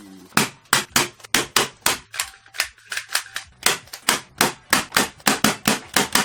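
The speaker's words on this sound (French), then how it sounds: "Je l'ai agrafé sur l'envers." A staple gun fires into material for a homemade solar oven, about twenty sharp, close snapping clicks in a quick, steady rhythm, with no talk.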